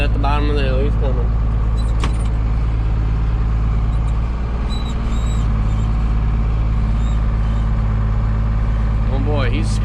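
A Fendt tractor towing a manure rig labors up a hill in harsh weather, its heavy engine droning low and steady throughout while people talk over it.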